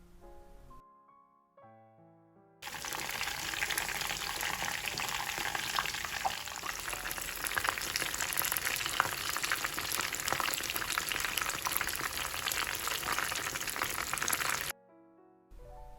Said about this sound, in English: Roll them into balls and fry them.